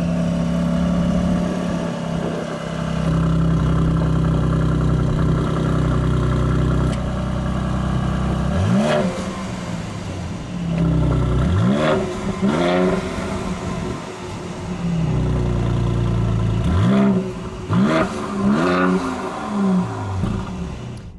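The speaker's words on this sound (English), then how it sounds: "We also have the optional performance exhaust system" A 2022 Mercedes GLC with the optional performance exhaust idles with a low rumble, then revs sharply several times in quick blips, each rise and fall of engine pitch clear and close.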